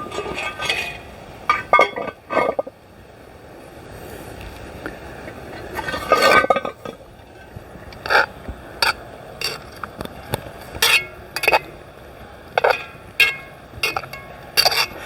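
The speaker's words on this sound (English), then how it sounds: "And I'm going to lift the lid." Clinks and metallic knocks from a cast iron camp oven pot and its lid over coals while a chicken roasts, a scatter of sharp separate taps and scrapes across a quiet outdoor background.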